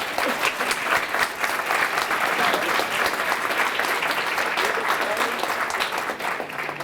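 Dense, sustained applause from a breakfast audience at a St. Patrick's Day grand marshal event in the Mid-Hudson region, steady and loud throughout with a faint murmur of voices underneath.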